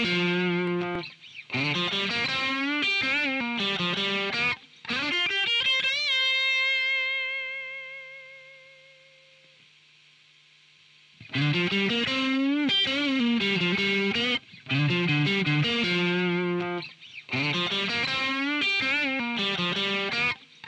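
Electric guitar run through the IK Multimedia AmpliTube 5 amp simulator plays distorted, effects-laden riffs in loud bursts, with one sustained chord ringing out and fading to near silence before the playing resumes.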